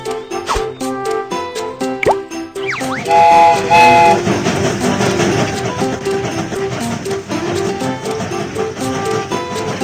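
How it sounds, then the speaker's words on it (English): Cartoon train starting off in a Babybus children's video game: playful plopping and chiming effects, a whistle toot, then a busy chugging, jingling rail rhythm with upbeat music, loud and continuous. "The train is about to start."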